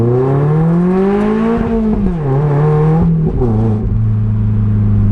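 A Lotus sports car pulls hard in first gear, the engine loud and close, its pitch climbing steadily, dipping briefly at shifts or lifts near two and three seconds, then settling into a steady drone.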